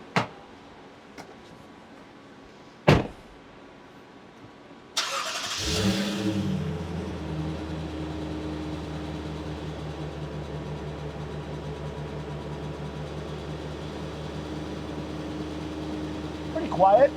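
A Lexus GX460 with its modified exhaust valve closed: a few faint clicks and a thump, then the engine cranks and catches into a steady, fairly quiet low idle that holds to the end.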